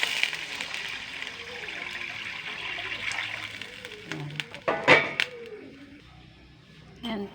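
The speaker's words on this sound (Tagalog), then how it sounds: "Lagyan ko na po siya ng tubig." Water poured into a cooking pot of sinigang na tuyo with tomato, a steady splashing gush under occasional background voices, with a few sharper clinks and splashes near the end.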